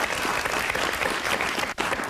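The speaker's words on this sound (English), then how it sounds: "Yeah, you can applaud that." A television studio audience applauds loudly during a late-night comedy show, a thick continuous roar of clapping with a brief dip near the end.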